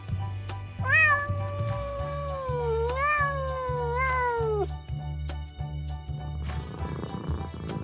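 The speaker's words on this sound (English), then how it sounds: "Cat." A cat meows three times in drawn-out, rising and falling calls over steady background music, then a brief rustle at the end.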